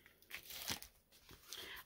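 Velcro strips being pulled apart, a few short rough ripping bursts close by and fairly quiet, with brief pauses between tears.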